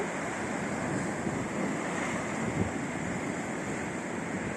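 Ocean waves from the Bay of Biscay crash against rocks near a coastal rock arch, a loud, continuous roaring wash of surf mixed with wind buffeting the microphone, with no voices.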